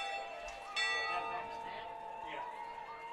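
A bell rings at a high school football game, its tones faint and ringing on with long sustained overtones, under crowd ambience and voices.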